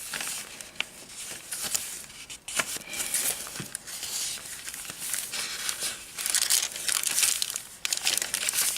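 Paper coin envelope being handled for a fairy-themed junk journal, giving close crinkling and rustling with a few sharp crackles and soft taps that run steadily throughout, no voice present.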